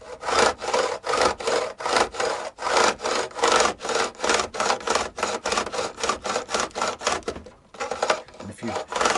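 Repeated rasping strokes of a file across the frets of a Vintage V100 electric guitar during a re-fret, light pressure, close and steady in a quick back-and-forth rhythm with one brief pause near the end.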